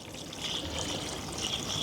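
Water trickles and pours steadily into a tray holding a container plant, a soft continuous splashing stream that stays close and fairly quiet throughout, with no voices.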